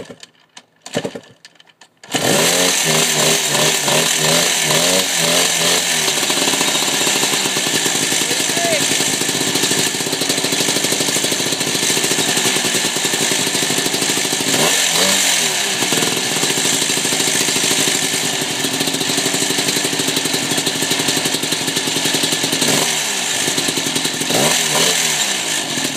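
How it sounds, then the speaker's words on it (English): A 1998 Yamaha YZ250 two-stroke dirt bike, freshly rebuilt, catches after a few kicks and then idles loudly and steadily close by, with raspy revs rising and falling every several seconds. "That is my 1998 YZ250 by Yamaha."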